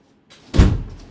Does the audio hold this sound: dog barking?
no